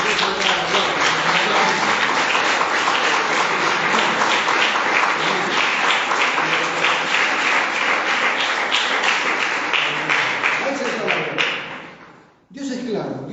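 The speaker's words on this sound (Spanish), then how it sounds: "Dale un aplauso al Señor, por favor." A church congregation claps together in praise, a loud, rhythmic, driving applause that fills the room for most of the stretch, then fades out abruptly before a brief voice returns at the end.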